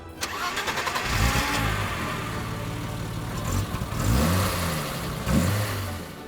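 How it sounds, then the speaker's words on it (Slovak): A 1988 BMW 520i E34 engine cranks and catches, then revs up in several rising surges, air rushing through the intake as the revs climb and settle back. "počuť ako motor nasáva vzduch a pri tých vyšších otáčkach, keď ožíva, to je naozaj skvelé"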